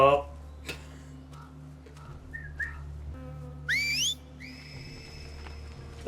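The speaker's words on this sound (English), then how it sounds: "They probably just reused the whistles from the game." Seraphite signal whistles from The Last of Us ring out as a pair of rising, warbling human-style whistles, one bending upward and another held steadily, over a low ambient drone with a faint tick in the background.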